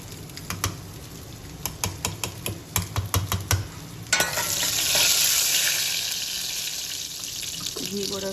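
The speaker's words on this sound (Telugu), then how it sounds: "పోపు వేసేసుకున్నాము" Tempering spices hitting hot ghee for sambar, preceded by a run of quick clicks and taps, then a sudden loud crackling sizzle that swells and holds, close by, with a brief clatter at the end.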